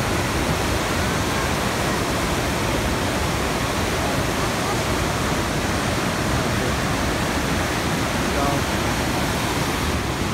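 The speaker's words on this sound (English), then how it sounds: "The Niagara Falls is one of the most rarest place ever." Niagara Falls roars as a continuous, dense wash of falling water, steady and loud throughout with no breaks or distinct events.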